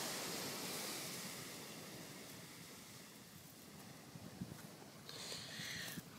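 Ocean waves wash continuously onto a shore, a broad rushing surf that swells and fades. The roar builds again near the end, with no voices over it.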